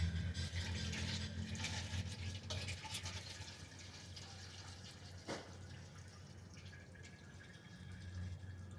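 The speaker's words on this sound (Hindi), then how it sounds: "इसका इंजन ऑयल निकल रहा है।" Hot engine oil drains from the drain nut of a Ford Aspire engine, a faint continuous liquid trickle and splatter with a brief louder splash partway through.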